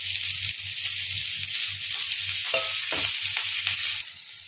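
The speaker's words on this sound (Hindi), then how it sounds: "ये देखिए, प्याज को बस हमें इतना ही भुनना है" Finely chopped onion sautéing in a pan for moong masoor dal fry, a continuous hiss of frying with a low hum and a few sharp stirring scrapes near the end, no voices.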